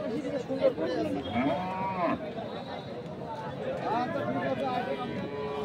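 Cattle, including Sahiwal bulls, low at a busy cattle market in Thakurgaon, Bangladesh, with several people talking and a busy crowd murmur running throughout.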